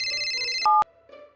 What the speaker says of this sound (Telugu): అతనికి ఒక ఫోన్ వచ్చింది.